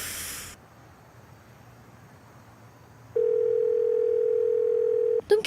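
A phone call gives a steady, loud, continuous dial tone lasting about two seconds after a stretch of quiet hiss, then cuts off abruptly with a brief clatter.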